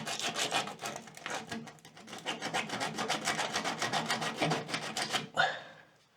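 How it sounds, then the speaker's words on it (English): Sandpaper rubs paint off a metal part in quick, steady back-and-forth strokes, a close rasping scrape that repeats evenly for several seconds before stopping with one final swipe. "I'm gonna go and get some sandpaper and sand that off as much as I can."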